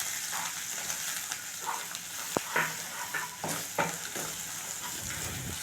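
Semolina and grated coconut roasting in a pan for Chettinad ukkarai sweet make a soft, steady frying hiss, with scattered scraping and tapping stir strokes close by and no speech.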